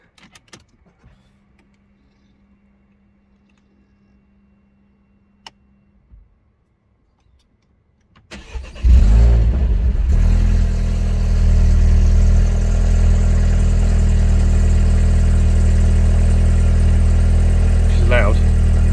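A DS3 Performance with a Cobra decat fitted sits silent for several seconds, then its engine cranks and fires into a loud, steady idle that holds to the end.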